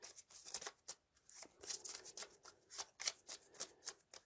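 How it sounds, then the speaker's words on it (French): A deck of cards for the Marvel Champions card game is shuffled by hand, giving a quick run of soft, papery riffling bursts close by with no talking. "On va remélanger."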